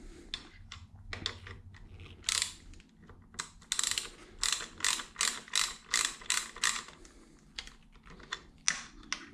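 A ratchet wrench clicks on the mirror mounts of a Harley-Davidson Sportster Iron 883, in quick bursts of ratcheting strokes with short pauses between them, close up and fairly quiet.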